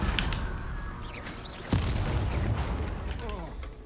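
A Confringo spell explosion in Hogwarts Legacy hits as one sharp booming blast in the middle, amid spell-casting effects and people talking.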